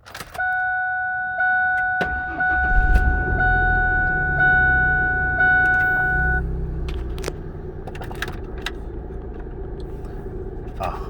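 A 1997 Ford F150 long-bed regular cab with a 4.2-litre six-cylinder engine cranks and catches over a steady two-tone warning chime, then settles into a low, even idle rumble close by.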